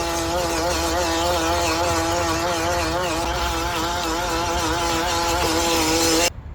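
A small WPL RC car with a 370 electric motor at full throttle, a loud, steady high-pitched whine that holds nearly constant for about six seconds, then cuts off abruptly.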